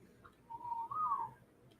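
The whistle command in the video game ARK Survival Ascended, a single clear whistled note that rises slightly and falls, lasting under a second, heard on its own over a quiet background.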